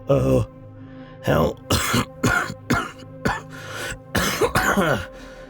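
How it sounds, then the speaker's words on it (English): A series of harsh, forceful coughs and throat-clearing bursts, close and loud, separated by short pauses. "A hesitant and quiet voice, followed by a violent cough."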